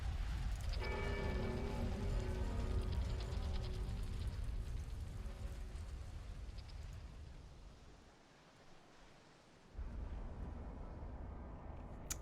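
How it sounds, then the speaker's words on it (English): A storm sweeps in with rain in the Dark Souls 3 video game: a dense, steady roar of rainfall and wind, with lingering bell tones fading early on and a brief lull before the downpour surges back, with no speech. "The storm has swept in."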